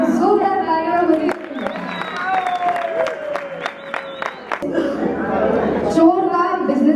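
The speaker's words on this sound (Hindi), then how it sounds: "एक बार जोरदार तालियां बजाइए" Guests give loud applause for the groom's father at a sangeet celebration in a hotel hall. The clapping and crowd chatter rise and fall over several seconds, mixed with music tones and hubbub.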